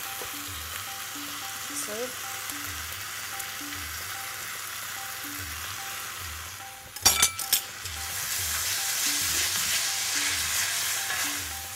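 Two cloves of garlic fry in a pan for a dal and seafood curry, giving a soft steady sizzle, then a burst of clinks and scraping from a utensil before the frying grows louder; one brief spoken word.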